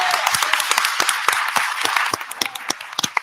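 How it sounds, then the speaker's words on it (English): Audience applause at a city council meeting for the mayor pro tem, a dense, steady wash of many hands clapping close by, with sharper individual claps standing out throughout. "Give him a hand,"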